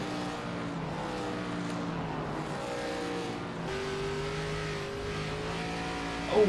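Late model stock race car engine at Slinger Speedway, a steady loud drone with rising and falling pitch as the car powers out of a corner, the throttle audibly modulated, no talk.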